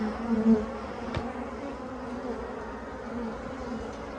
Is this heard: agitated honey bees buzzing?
yes